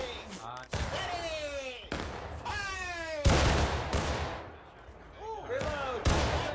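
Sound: musket volley in video game War of Rights

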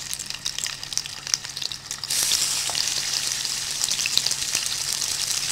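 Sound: burger patty frying in hot oil

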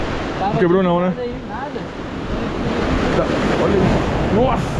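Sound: big ocean waves crashing on beach

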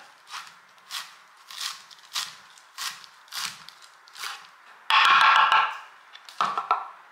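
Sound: cutting up limes and stems for guacamole

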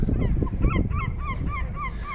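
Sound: seagulls crying in Jastarnia harbour

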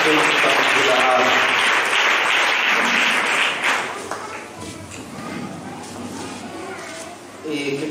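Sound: applause

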